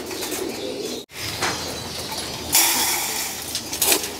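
Pigeons crowding around feed at a loft trapdoor, with bursts of wing flapping and soft cooing, close by and continuous, growing busier toward the end.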